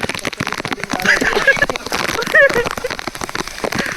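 Steady rain patters and crackles on a surface close by, with people talking over the downpour.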